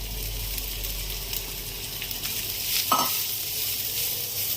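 Grated coconut, sugar and fried cashews being stirred in a hot pan, a steady close sizzle with scraping stirring movements and a brief clink near the middle, no talk.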